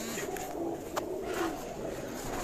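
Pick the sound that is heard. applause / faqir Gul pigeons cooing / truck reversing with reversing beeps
faqir Gul pigeons cooing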